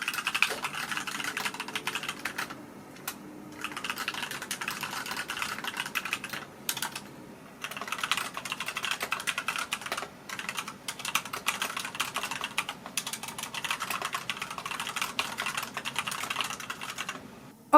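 Typing on a computer keyboard while writing a novel: fast, uneven bursts of close key clicks with brief pauses between runs, quiet and alone.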